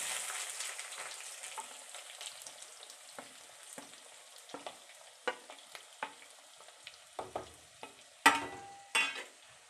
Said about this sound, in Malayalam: അപ്പോൾ ഇതാ കടുക് പൊട്ടിത്തുടങ്ങി, ഉലുവായും മൂത്ത് തുടങ്ങി.